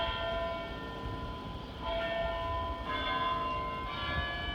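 Church bells ring steadily, heard from a backyard garden, with sustained, overlapping tones, swelling with each new stroke at a moderate distance, no one speaking.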